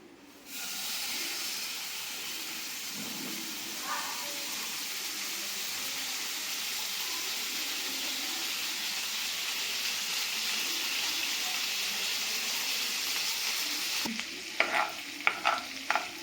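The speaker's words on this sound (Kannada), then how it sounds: "ಸೊ ಇವಾಗ ಪ್ಯಾನ್ ಕಾದಿದೆ. ಸೊ ಇವಾಗ ಇದಕ್ಕೆ ಈ ಬೆಣ್ಣೆನ ಹಾಕ್ತಾ ಇದ್ದೀನಿ." Butter melts in a hot pan over low flame while making ghee, giving a steady, even sizzle and hiss throughout with a few faint clinks near the end.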